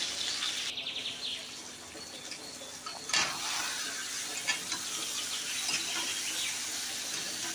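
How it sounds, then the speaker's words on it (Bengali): Pieces of chicken fry in a hot pan with a steady, close sizzling hiss, broken now and then by small pops and clicks. "আমি চিকেনটা কষাচ্ছি, চিকেনটা ভেজে নিয়ে তারপরে চিকেনটা কষাবো"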